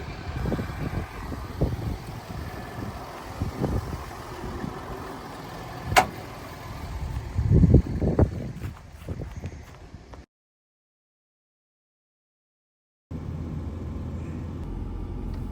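Ford Ranger pickup driving off-road through a four-wheel drive park trail, a rough rumbling engine with knocks and bumps from the terrain, then a brief dropout before steady driving noise resumes.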